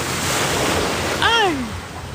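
Strong surf breaking on a beach at Boracay, a steady loud wash of water with wind noise, and a brief rising-falling voice call cutting in near the end.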